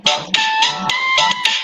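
A phone rings loudly and close, repeating short electronic tone bursts in a quick regular pattern during an online diplomatic conference.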